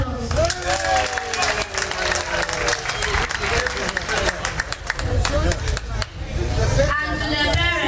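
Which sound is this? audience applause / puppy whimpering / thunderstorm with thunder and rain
audience applause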